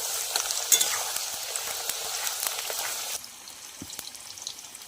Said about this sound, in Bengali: এবার এখানে আলুটা ভাজছে